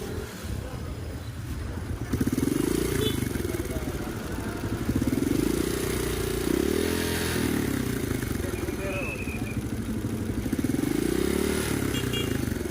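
A Honda RS125 motorcycle engine idles with a steady rattling knock from the primary clutch, loud and close, while a person talks over it throughout.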